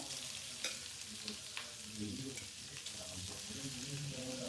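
Cut paneer frying in a pan over a medium flame, a quiet, steady sizzle with small crackles and a few faint stirring scrapes.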